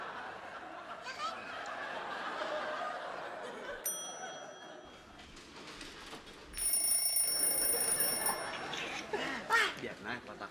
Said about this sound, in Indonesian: Bunyi itu alarm.